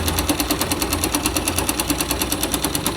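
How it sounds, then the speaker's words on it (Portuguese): A 2005 Yamaha YBR 125 motorcycle engine runs close up with a rapid, steady mechanical ticking and knocking over a constant hum, the engine smoking and leaking oil at a failed gasket. "Já começou a fumaçar esse barulho no motor"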